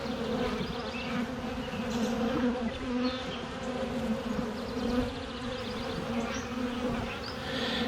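Honeybees buzzing steadily around an open hive during a full inspection of frames packed with brood, a dense close swarm hum that holds throughout with no talking.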